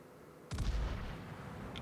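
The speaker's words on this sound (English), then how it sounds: "Larry firing the guns there." Battleship main guns fire in World of Warships, a single loud deep boom from the Minnesota that breaks in suddenly and then rolls on as a long, low rumbling tail.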